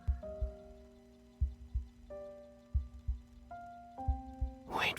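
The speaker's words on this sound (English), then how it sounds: "All I can hear now is Caleb's heartbeat, and then it slowly fades into the distance" A heartbeat effect from the Love and Deepspace video game thumps in soft double beats, slow and steady, under a sustained synth pad chord that shifts a few times, ending in a brief swell.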